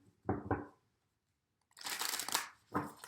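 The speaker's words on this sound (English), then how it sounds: "I don't know why I can't seem to shuffle these like normal right now" Oracle cards being shuffled by hand during a tarot reading, two quick riffling bursts, a pause, then a longer crisp flurry of card noise and a final short burst, close and fairly quiet.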